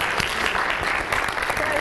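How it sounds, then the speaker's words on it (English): A burst of dense crowd applause at a speech event, loud and continuous across the short span with no break. "Give him a round of applause."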